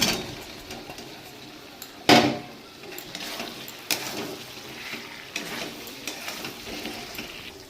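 Potatoes go into a pan of cooked-down spices and oil for a vegetarian aloo dum, starting with a sharp clatter and followed by scattered scrapes and knocks of stirring.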